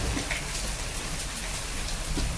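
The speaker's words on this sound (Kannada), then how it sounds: "ಇದು ಮಗಿ ಮಳೆ ಇವತ್ತು ಕಲ್ತಿದೆ ತುಂಬಾ ಚೆನ್ನಾಗಿ ಬರ್ತಿದೆ" Steady heavy monsoon-type rain pouring down, a dense continuous hiss with scattered drops hitting a surface, no voices.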